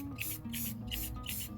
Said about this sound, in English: I'm just gonna lightly spray the outside